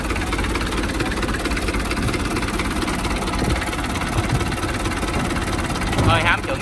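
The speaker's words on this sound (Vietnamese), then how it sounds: "Máy rất là êm nha bà con." A 4 Sao outboard-style boat engine on a 3-tonne wooden boat idles smoothly and steadily, a continuous low hum close by with someone talking over it throughout.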